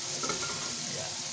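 Red onion and ginger sautéing in a pan for ginisang mongo, a steady close sizzle of frying with soft stirring scrapes, no voices.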